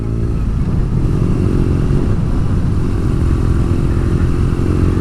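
2017 BMW R nineT Scrambler under way: a steady, loud engine drone with wind roar, held constant from start to finish without a break.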